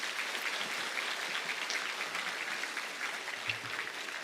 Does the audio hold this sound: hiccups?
no